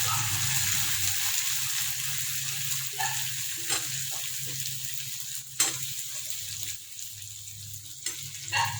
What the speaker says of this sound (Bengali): এবার আমি পটল আর আলুটা দিয়ে দেবো।